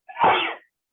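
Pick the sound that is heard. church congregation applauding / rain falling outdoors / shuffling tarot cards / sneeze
sneeze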